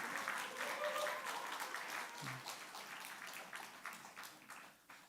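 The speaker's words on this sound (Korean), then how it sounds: "영광 받으실 하나님께 박수 한번" Congregation at a church service applauding, a steady wash of many clapping hands at moderate level that gradually thins toward the end, with a faint murmur of voices underneath.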